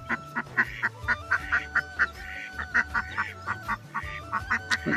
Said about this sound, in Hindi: यहाँ पर बतख अपने बच्चों को पानी के सामने लेके आ गई है